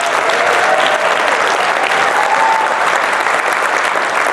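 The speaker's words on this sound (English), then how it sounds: "give Jeff a big round of applause" An audience gives Jeff a big round of applause, a dense, steady wash of many hands clapping that holds loud and even throughout, with a faint voice or tone drifting underneath.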